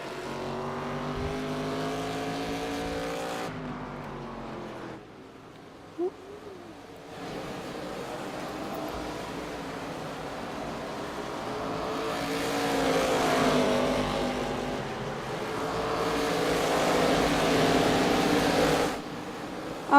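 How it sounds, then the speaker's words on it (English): Race cars in a grassroots racing video game run laps at speed on a US track, with engine tones rising and falling as they sweep past, steady and loud apart from a brief dip near the middle. "These cars are going fast."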